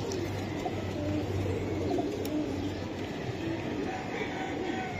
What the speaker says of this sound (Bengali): এটা ইরানি কবুতর ভাই।